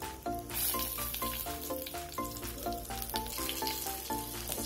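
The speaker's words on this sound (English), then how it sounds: "Let us saute this to make the chilies crisp" Chilies and onions saute in hot oil for tomato chutney, a steady moderate sizzle with light intermittent crackles under a tonal background layer, and nobody speaks.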